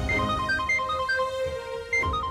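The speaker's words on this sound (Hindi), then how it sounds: "आलिया का फोन आ रहा है।" A phone ringtone signalling an incoming call, a short repeating electronic melody of bright tones played in phrases, fairly quiet with background noise underneath.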